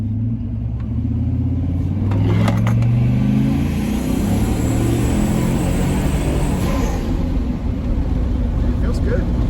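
A turbocharged daily-driver car accelerates, a steady loud engine rumble and road drone filling the cabin with a brief surge partway through, while people talk over it.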